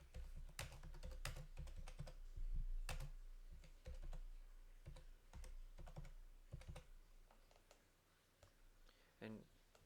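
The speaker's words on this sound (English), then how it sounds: "By typing in our focus keyword" Rapid keystrokes on a computer keyboard while entering a focus keyword, sounding as irregular bursts of close, crisp clicks that thin out toward the end, with a faint background hum.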